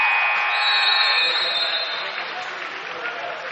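High school boys' basketball game at halftime, a long electronic buzzer blaring for about a second and a half over crowd cheering and applause that keeps going after it stops.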